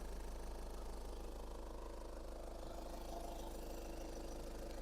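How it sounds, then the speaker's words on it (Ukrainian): A Skoda Superb 2.0 TDI diesel engine idles evenly with a low, constant hum and faint rattling texture, continuous throughout with no voices. "Мотор працює рівненько, тут без зауважень."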